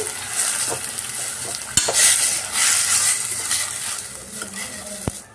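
Onions and green chillies fry in a pan for a green peas and tomato curry, a steady sizzle broken by scraping stirs and a few sharp clinks of the spoon against the metal.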